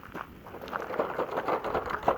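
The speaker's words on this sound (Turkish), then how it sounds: "Dolu yağıyor." Hail and rain fall outdoors in the mountains, a faint, steady pattering of small irregular impacts with no voices over it.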